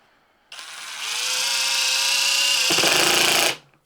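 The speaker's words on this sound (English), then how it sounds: "just kind of showcase how this new impact driver drives in speed 1" A Ridgid 4-mode impact driver in speed 1 sinks a 3.5-inch deck screw, a loud, steady whir that climbs in pitch, then shifts to a rougher rattle near the end before stopping, with no talking.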